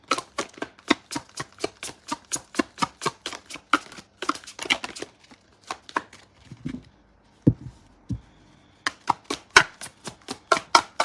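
Tarot cards being shuffled by hand, a crisp rhythmic run of riffling snaps in quick bursts, briefly pausing midway with a few soft thuds before the fast slapping resumes, close and clear with no talking.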